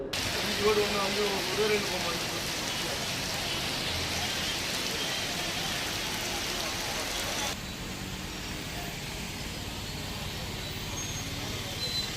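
Heavy rain falls steadily on a flooded road in Tamil Nadu, a dense continuous hiss with faint traffic underneath, close and loud throughout.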